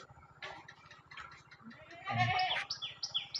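Goats on a small goat farm give a short burst of bleating, moderately close, amid faint bird chirps and some quiet talk.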